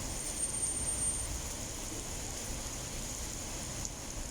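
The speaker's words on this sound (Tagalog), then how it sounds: "Ang lakas ang ulan." Steady, dense hiss of heavy rain pouring continuously, with no voices and only a faint tick near the end.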